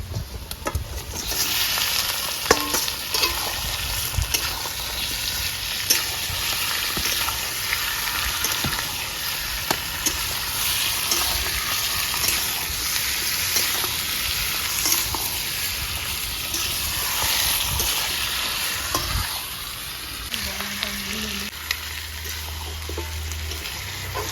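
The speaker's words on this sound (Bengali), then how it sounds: "ম্যারিনেশন করে চিকেন ঢেলে দেবো" Marinated chicken hits browned, deep-red fried onions in a hot pan, giving a loud, steady sizzle and frying crackle that runs throughout, with occasional stirring scrapes and a brief lull near the end.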